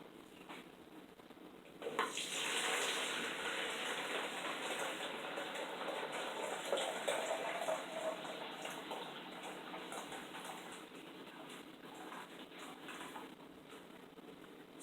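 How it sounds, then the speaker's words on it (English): Ginger kombucha pours steadily into a container for over ten seconds, a soft continuous splashing gush starting abruptly near the beginning and gradually easing. "grab a container where you can pour your kombucha."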